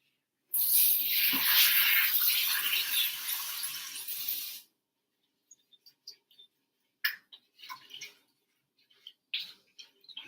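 Tap water runs steadily into a kitchen sink for about four seconds while mushrooms and green peppers are rinsed in baking soda water, then stops, leaving soft scattered clinks and handling sounds.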